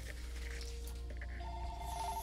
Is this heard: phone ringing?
yes